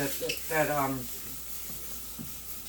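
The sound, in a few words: butter sizzling in a frying pan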